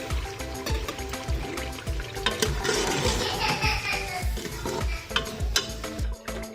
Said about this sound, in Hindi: इसमें थोड़ा थोड़ा पानी शामिल करेंगे और इसकी भुनाई करेंगे